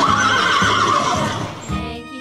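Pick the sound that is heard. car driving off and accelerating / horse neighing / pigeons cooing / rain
horse neighing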